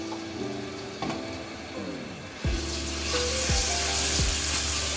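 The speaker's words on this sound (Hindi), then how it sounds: "1 टीस्पून लहसुन अदरक पेस्ट वो ऐड करें और उसे भून लें।" Garlic ginger paste sizzles in hot oil. Scraping stir strokes and a few knocks run through it, and the frying grows louder and hissier about halfway through, close by and without talking.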